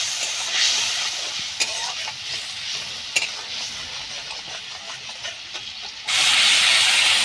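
Spices and salt fry in a pan for a fish curry, a close, continuous sizzle with steady hiss and occasional scraping stirs, swelling louder near the end.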